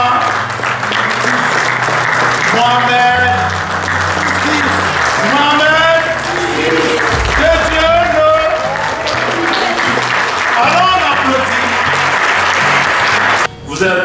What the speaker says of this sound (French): je voudrais que vous vous levez pour applaudir Sa Majesté, le roi